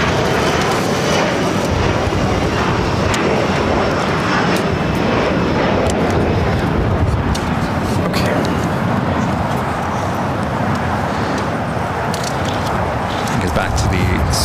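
An Airbus A321 jet departs LAX with a loud, continuous, broadband engine roar. The roar stays close and sustained throughout, with no pauses.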